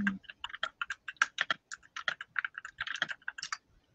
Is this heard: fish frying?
no